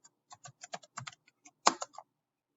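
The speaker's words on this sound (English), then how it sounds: "So now you're going to write the date, and you can just write today's date." Keys tapped on a computer keyboard while entering a date, a quick run of separate clicks followed by a louder clustered burst near the end, close and clear with no talking.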